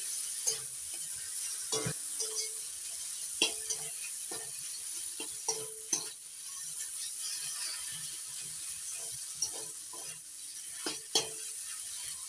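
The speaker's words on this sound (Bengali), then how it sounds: "সব কিছুর সঙ্গে টমেটোটা একটু কষিয়ে নিচ্ছি" Chopped tomato being fried and stirred with taro in a pan makes a soft, steady sizzle, punctuated by sharp scraping knocks of a spatula against the metal, fairly quiet and close.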